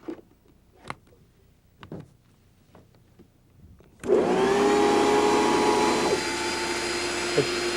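An Electrolux 3500 series vacuum cleaner motor starts abruptly partway through after a few quiet clicks and handling sounds, then runs as a loud, steady whine that dips slightly in pitch and level near the end.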